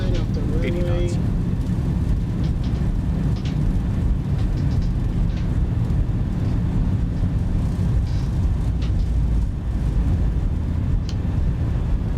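Boeing 737-800 engines in reverse thrust during the landing rollout: a loud, continuous low roar with rushing wind noise inside the cabin, steady throughout, with faint scattered rattles.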